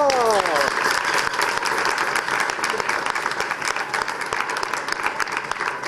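A cabaret audience claps loudly to welcome a performer on stage, dense sustained applause from a nearby crowd, with a brief spoken voice at the start.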